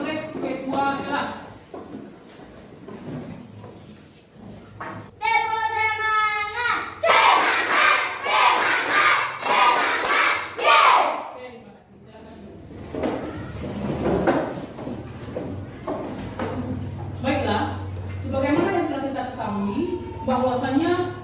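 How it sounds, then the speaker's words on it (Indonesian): A class of fourth-grade children stand and perform the rhythmic tepuk semangat spirit clap, with loud crowd-like chanting and bursts of clapping rising and falling over about fifteen seconds, mixed with shouted voices. "bisakah Anda memberikan Bapak suatu tepukan hangat berupa tepuk semangat?"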